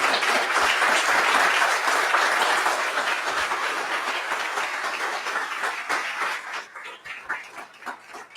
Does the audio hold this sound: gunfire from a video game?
no